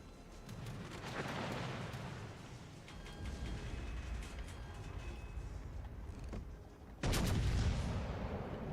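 Battleship gunfire in World of Warships: Legends, with deep booming shots and rumbling blasts under steady game noise, and one heavy, loud salvo near the end.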